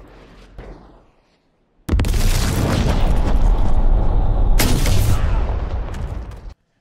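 Gun battle in the Fallout TV series: after a quiet stretch, a sudden loud, sustained barrage of gunfire and explosions erupts and rumbles on for several seconds, with one sharper blast midway, then cuts off abruptly.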